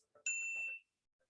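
A notification bell sound effect gives a single bright ding that rings clearly and briefly before cutting off, alone and close.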